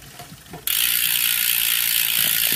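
A Novatec freewheel hub on a carbon Trek Émonda SL5 road bike ticks in a fast, even buzz of ratchet clicks that starts abruptly after a moment of quiet and continues loudly to the end.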